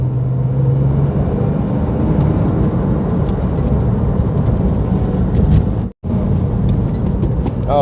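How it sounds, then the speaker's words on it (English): A Porsche 911 with a stock exhaust accelerates from a rolling start in second gear, a loud, dense, rumbling engine roar heard from inside the car, with a brief cut near the end and no talking. "A little bit of acceleration. Rolling start. Off from second."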